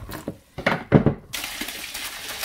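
Sorrel (bissap) juice pours steadily into a pot with a continuous splashing hiss, preceded by a few brief clinks and knocks.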